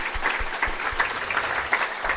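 An audience claps after a talk at a tech conference, a steady, moderately loud round of applause from a crowd with no speech over it.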